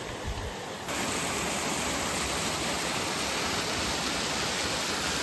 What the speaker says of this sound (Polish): Doszliśmy do kolejnego wodospadu.